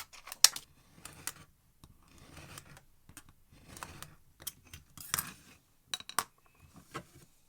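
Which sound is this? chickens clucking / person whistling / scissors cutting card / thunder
scissors cutting card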